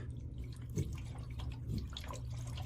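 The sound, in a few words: water dripping from roof flashing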